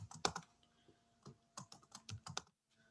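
Computer keyboard keys are pressed in scattered quick clicks and short bursts during Java programming work, close and fairly faint, with no voices.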